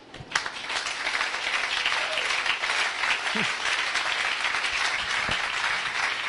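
A church congregation bursts into applause to acclaim God during a French-language sermon, steady crowd clapping filling the room for several seconds with a few sharper claps near the start.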